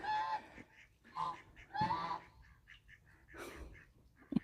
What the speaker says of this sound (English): Oh, the geese are enjoying the mud, the muddy mud puddle.